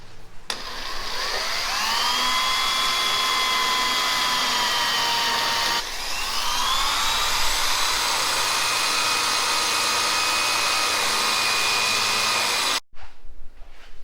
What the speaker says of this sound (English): My dad just finished drilling all of the holes for our plug welds